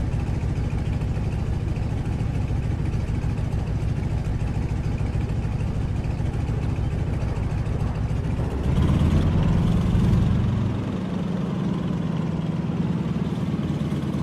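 A Stearman biplane's radial engine idles steadily in a flight simulator, a continuous low droning hum that briefly swells and shifts pitch near the end, with no talking.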